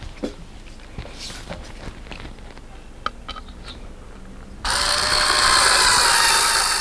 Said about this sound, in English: I'll just screw them in using these 40mm screws